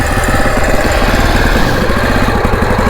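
A Bajaj Pulsar 220 motorcycle fitted with a modified silencer idles loud and close, its engine a rapid, rough, throbbing putter that stays steady throughout the short stretch.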